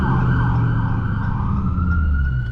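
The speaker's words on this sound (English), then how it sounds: "I'm gonna let that ambulance pass" A loud, continuous Temple ambulance siren wails close by as it passes, its tone sweeping steadily up and down over a deep rumble of engine and road noise.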